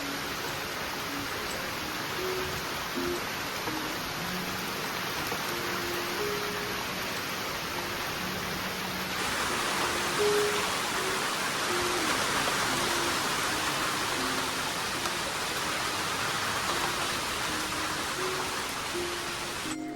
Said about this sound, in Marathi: पाऊस लागता, कारण आवाज येता पावसाचा.